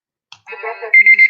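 A timer alarm rings out with a shrill, repeating electronic beep that pulses several times in quick succession, loud and close, following a short burst of tonal chiming.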